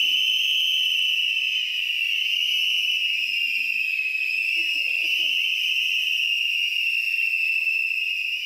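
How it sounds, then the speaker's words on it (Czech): A crowd whistles together in the large foyer of a theatre during a Czech amateur theatre festival, a loud, sustained high whistle that holds steady for the whole stretch, with faint voices murmuring beneath it. "Pravděpodobně nejsilnější písk v historii českého amatérského divadla naplnil o posledním prázdninovém víkendu velké foaje Příbramského divadla Antonína Dvořáka."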